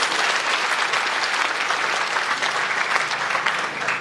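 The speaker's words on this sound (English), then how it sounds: "Let us give ourselves a round of applause" Conference delegates give a sustained round of applause at a closing session, steady dense clapping filling the hall loudly and evenly throughout, with no voices over it.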